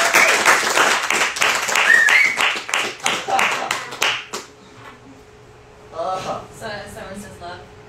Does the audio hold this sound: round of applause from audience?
yes